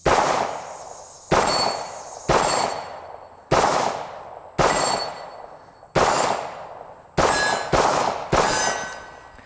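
A full-size Beretta M9 9mm pistol firing at steel targets: eight sharp shots, each followed by a ringing metallic clang, spaced about a second apart and speeding up toward the end, loud and with no talking.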